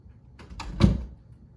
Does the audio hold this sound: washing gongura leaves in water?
no